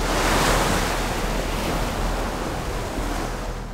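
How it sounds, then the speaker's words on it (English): Ocean waves crash and wash onto a beach in a steady, loud roar of surf with some wind, continuous and close throughout, with no voices. "waves crashing onto the beach"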